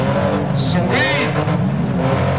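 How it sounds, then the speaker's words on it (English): A gray Chevy Malibu demolition derby car with a 6-cylinder engine runs at a county fair derby, its steady engine noise loud and close amid crowd and arena clamor, with brief higher whines and a tire-like squeal partway through. "that Chevy Malibu, that beautiful little gray car, still running."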